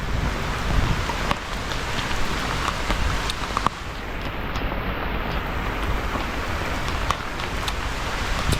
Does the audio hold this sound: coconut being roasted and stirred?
no